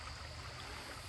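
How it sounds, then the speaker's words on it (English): Water runs from a drain beside a river that has recently flooded. It makes a steady, soft rushing hiss, faint and constant, with no voices. "There's a drain over there, that's that noise."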